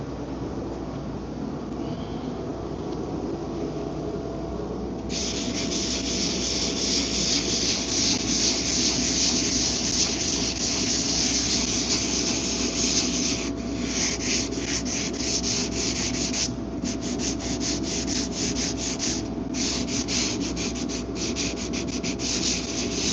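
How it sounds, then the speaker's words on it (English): A small sanding block rubs out a slight dip on the body panel of a twin-turbo Infiniti Q50 under repair, a steady close scratchy rasp that turns into quick repeated strokes partway through, with no talking. "I would take the small block and rub that out"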